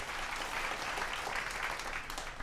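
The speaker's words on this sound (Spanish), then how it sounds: "acompáñenme con un inmenso aplauso" A church congregation breaks into sustained, even applause. Many hands clap together in a steady wash of sound through the whole short stretch.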